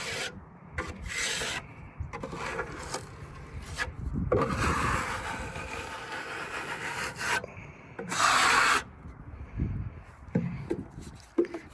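A trowel scrapes and rubs joint compound into pocket screw holes on a wooden hall tree, giving close, dry scraping strokes in irregular bursts with short pauses between passes.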